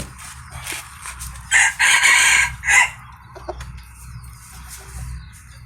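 A young rooster crows a loud, drawn-out call in several bursts, close by, with soft clucking and farmyard background around it.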